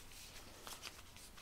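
Cardboard tiles from the Jurassic Park Danger board game are shuffled and slid together by hand, a soft continuous rustle with brief scraping clicks, close and quiet, with no talking.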